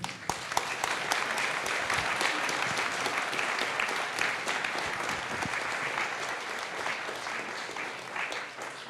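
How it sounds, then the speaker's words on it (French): Steady applause from an audience after a public discussion, a dense patter of many hands clapping continuously for several seconds, then tapering slightly at the end. "On peut les applaudir."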